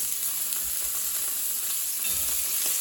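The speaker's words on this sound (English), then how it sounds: "And let's throw in our onion." Chopped onion sizzles in a little olive oil in a seasoned stew pot, a continuous crackling hiss close up with brief low clunks as the pieces are stirred.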